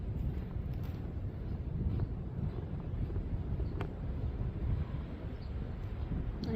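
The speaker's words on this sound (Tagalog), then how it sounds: "ang sarap ng simoy ng hangin" Steady sea breeze blowing across the microphone at a Philippine beach resort, a continuous low rushing rumble with no pauses, moderately loud and unbroken throughout.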